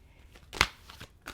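Tarot cards riffled in a short shuffle during a reading, one crisp brushing burst in the middle with softer card flicks before and after, close and alone.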